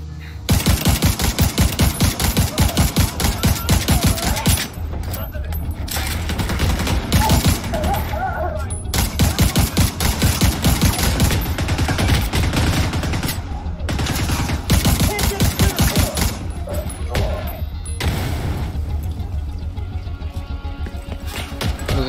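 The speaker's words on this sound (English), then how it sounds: "You ready? I'm gonna shoot." Gunfire in The Division 2: loud, sustained automatic bursts rattle almost continuously, broken by a few brief gaps, with faint talk mixed in underneath.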